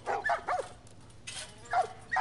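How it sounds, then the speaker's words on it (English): Small dogs yip and bark in short bursts, several quick calls close by with brief pauses between, mixed with whimpering, against quiet background. "Sorry, hope these dogs are all accounted for"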